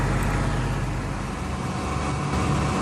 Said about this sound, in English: there's just a steady stream of trucks